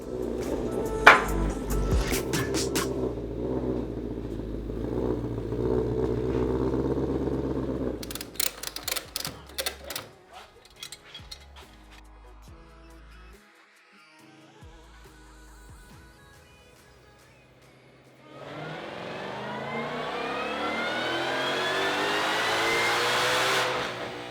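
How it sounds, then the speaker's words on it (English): A 2020 Ford GT500 with a ported supercharger, custom tune and E85 fuel revs on a dyno, engine note rising and falling, dropping to a quieter idle, then climbing into a long, loud wide-open pull. "We're gonna get it thrown up on the dyno, see what kind of horsepower this car can make."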